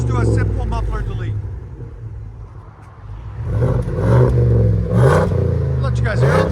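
A Ford F-250 with a 7.3L V8 and muffler delete exhaust rumbles deep and loud, settling to a lower idle before revving up again in strong surges, with someone talking over parts of it.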